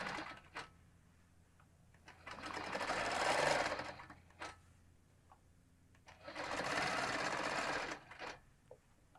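A longarm quilting machine stitches around a quilt panel in two sustained bursts of rapid, whirring needle action, separated by a quieter pause with light clicks.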